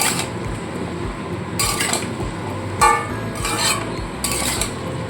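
Metal spoon stirring and clinking against a pot of hilsa fish head curry with salt and turmeric, several scraping bursts at irregular intervals over low kitchen background noise.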